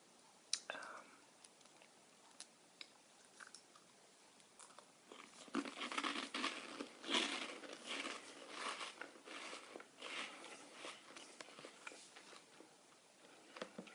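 UK crisps crunched and crinkled up close: sparse crackles at first, then dense, irregular bursts of crunching and chewing with packet crinkling, soft whispering alongside.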